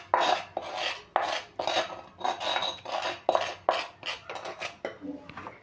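Semolina roasting in hot ghee in a pan for suji upma, stirred with a spoon in repeated scraping, rasping strokes with clinks against the metal pan, close and steady throughout.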